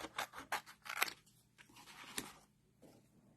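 Scissors snipping black cardstock for a handmade Stampin' Up sunflower card, a quick run of close, crisp cuts followed by a couple of slower snips, with no voice.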